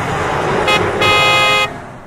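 Car horn toots twice in a children's vehicle video, a short beep followed by a longer honk, loud and close over a low road-traffic rumble.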